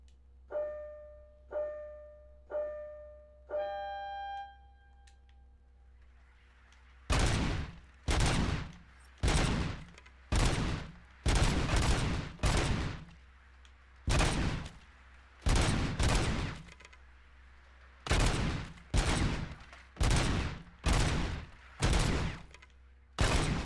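Gunfire in the video game Robocop: Rogue City, a few rising electronic tones and then a long run of loud, close shots in rapid bursts separated by brief pauses.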